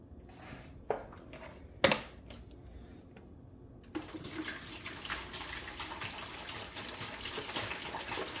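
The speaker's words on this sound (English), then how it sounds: "I'm just pouring water in a bucket." Water poured into a bucket while setting up a hydroponics system: a few sharp knocks and splashes early on, then from about four seconds a steady, close pouring gush that keeps going to the end.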